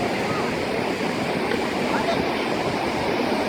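The fast-flowing Neelum River at Kohala, Azad Kashmir, gives a loud, continuous rushing roar heard from close by, with a dense, unbroken texture and no clear rhythm or pauses.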